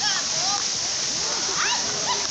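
Waterfall at Cachoeira do Quitite in Rio de Janeiro, a constant rushing roar of falling water close by, with voices of people, including children, chatting over it.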